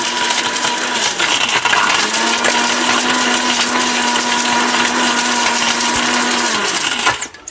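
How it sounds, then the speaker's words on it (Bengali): A 1600-watt Steel Bush blender crushing pieces of brick roars loud and steady at close range, with hard fragments rattling and grinding against the jar until the motor cuts off at the end. "স্টিল বুশের ব্লেন্ডার, এটা তুফান ভাই"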